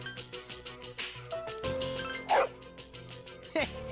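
A dog in the Persona 3 Portable video game gives a couple of short yipping barks over steady game music, with no one talking.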